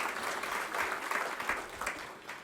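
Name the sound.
audience applause at Rotary Club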